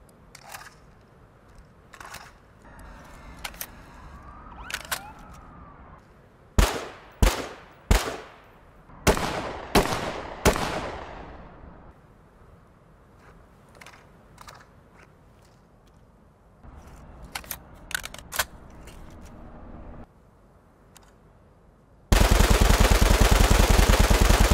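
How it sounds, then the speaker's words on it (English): Older sound design for an M4A1 rifle in the shooter Ready or Not: scattered sharp gunshots, some alone and some in quick bursts, loud and close, with faint footsteps and gear between them before the sound cuts to a loud noise burst. "Here is the old audio for the M4A1."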